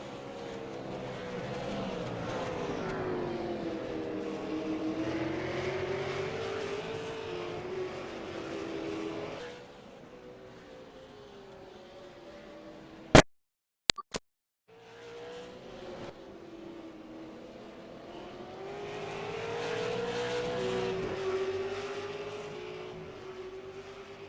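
V8 Supercars race at Imola during an evening race, engines swelling as cars pass, fading to near quiet, then sharp brief clicks before another loud pass approaches and recedes, with no voices.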